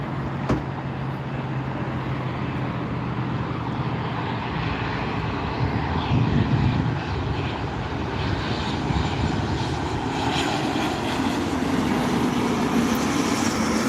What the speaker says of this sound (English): We have a little one landing here. Cessna 172.